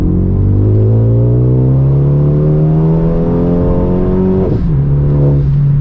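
A 2012 Renault Megane RS Trophy engine pulls hard and close, its loud, rising rev climbing smoothly for several seconds before a brief dip at a gear change, then carrying on.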